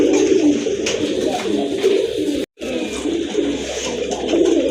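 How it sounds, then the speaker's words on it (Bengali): Pair of red dom pigeons offered for sale, cooing close by in repeated soft, throaty bursts over low background noise. "আরেক জোড়া কবুতর মাশাল্লাহ যে দেখেন এটা কিন্তু আবার লাল দম"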